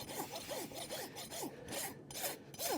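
A farrier works an XL Legend rasp across a horse's hoof wall. Quiet, rhythmic rasping strokes repeat close by, roughly two to three per second.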